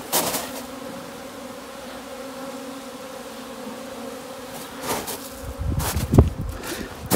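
Honey bees on their spring cleansing flight buzz in a steady outdoor drone, with louder rustling and handling bursts near the end.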